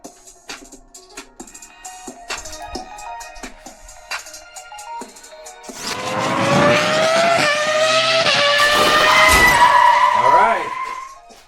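Ferrari and Lamborghini model race cars run down a drag track with a rising high-pitched whine, loud and continuous for several seconds, after a quieter stretch of background noise and chatter.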